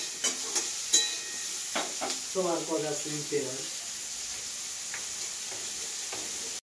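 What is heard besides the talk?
eggplant slices frying in a pan with turmeric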